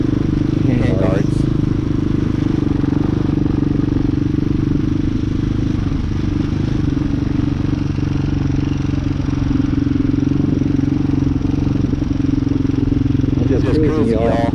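Hawk 250cc street-legal dirt bike cruising, its engine a loud, steady droning hum held throughout with constant rumble and wind, a few faint brief clatters near the start and end.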